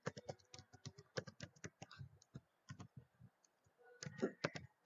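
Typing and mouse clicking on a computer keyboard, rapid irregular taps in bursts close to the listener.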